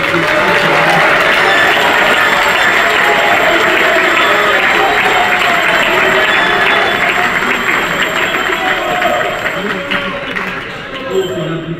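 Applause from a large audience acclaiming the President of the Republic at a festival ceremony, a dense, steady wash of clapping that holds loud throughout and thins slightly near the end.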